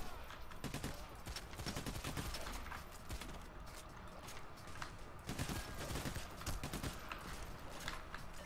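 Heavy gunfire in the video game Payday: The Heist comes in continuous rapid volleys and machine-gun bursts, close and busy, with voices talking over parts of it.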